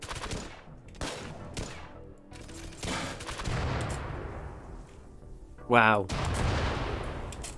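Bursts of gunfire from a mechanoid raid in the video game RimWorld, sharp cracks and rattling volleys layered over a steady battle din, with one short spoken exclamation near the end.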